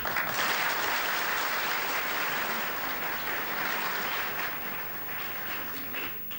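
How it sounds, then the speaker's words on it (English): A snooker crowd at the 1995 Thailand Open final gives a warm, steady round of applause after an excellent break, a dense even patter of clapping that holds at moderate level and eases slightly toward the end. "Warm round of applause."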